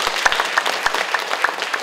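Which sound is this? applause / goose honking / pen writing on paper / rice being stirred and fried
applause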